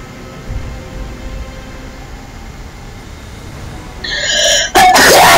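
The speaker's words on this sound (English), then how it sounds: "I just sneezed." A person sneezes sharply, close and loud, in one abrupt burst near the end that follows a short rising tonal sound over a quiet background.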